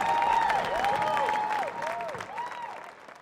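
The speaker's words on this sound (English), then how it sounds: "Big round of applause for our women's division." A crowd applauds the women's division at an ultramarathon awards ceremony, sustained clapping from many people that tapers slightly, with an amplified voice gliding over it.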